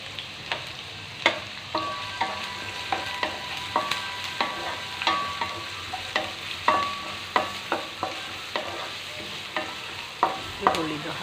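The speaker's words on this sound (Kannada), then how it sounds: "ಈರುಳ್ಳಿ ಹಾಕಿ, ಮತ್ತು ಅದ್ರ ಜೊತೆಗೆ ಹಸಿಮೆಣಸಿನ್ಕಾಯಿ ಹಾಕಿ ಚೆನ್ನಾಗಿ ಫ್ರೈ ಮಾಡಿ." Onions and green chilies fry in a pan while a spatula scrapes and stirs in a steady rhythm of sharp clacks over a constant soft sizzle, close and moderately loud, with no voices.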